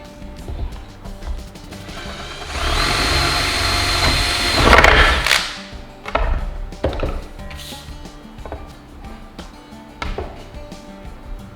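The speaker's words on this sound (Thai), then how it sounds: "แล้วก็เจาะลง" A power drill bores down into a wood block beneath a surfskate board, a loud rising whine lasting a few seconds, followed by scattered knocks and clatters of handling.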